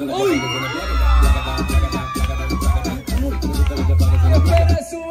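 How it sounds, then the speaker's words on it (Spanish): A lively family crowd claps, cheers and whoops loudly for a woman named Pamela at a home baby gender-reveal party, with excited shouts and voices mixed into the noisy celebration. "¡Fuerte el aplauso para Chuchu Pamela!"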